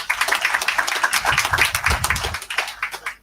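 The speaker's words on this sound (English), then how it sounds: "Let's give them a round of applause." Audience applause at a high school anniversary celebration, a dense crowd of claps running steadily for about two and a half seconds, then thinning into scattered individual claps.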